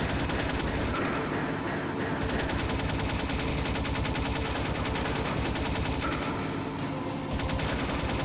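Gunfire in Metal Gear Solid Integral rattles in dense, rapid repeated shots, loud and continuous over a busy game soundscape, with no talking.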